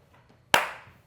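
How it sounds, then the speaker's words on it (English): A single sharp hand clap, close and loud, ringing briefly and decaying quickly in a quiet room. "Clap."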